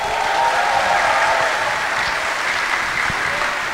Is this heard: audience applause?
yes